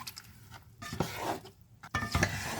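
Spiced mutton masala for achaar gosht being stirred and mixed in a pot, with intermittent scraping, knocking of a spoon against metal and squelchy turning of thick masala in short bursts with brief pauses, close and fairly quiet.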